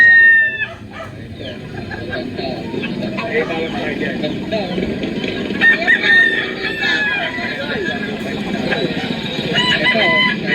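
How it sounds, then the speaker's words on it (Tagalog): Roosters crow and chickens cluck amid the bustle of a live chicken market, with several calls rising over a steady crowd din while someone speaks close by. "Kaya ang mga bilihan ng manok dito sa tabing ko."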